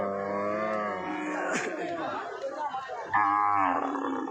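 Several dairy cows moo loudly and close by at a cattle market, long low calls with a brief pause, while people chatter faintly in the background.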